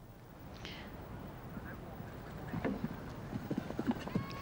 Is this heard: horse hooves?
yes